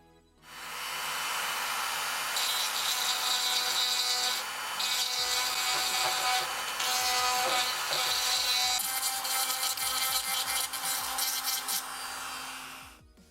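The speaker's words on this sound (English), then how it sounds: "All you'll need is a small Dremel and some safety glasses. All we need to do is drill out these 2 tabs" A small Dremel rotary tool drills out two plastic tabs inside an N64 console cartridge slot, a steady, loud whining grind that runs nearly continuously with slight changes in pitch and load, alone without talk.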